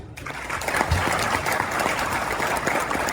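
An audience applauds at a New York music night held by a community society, a steady round of clapping that starts suddenly and keeps going at moderate loudness.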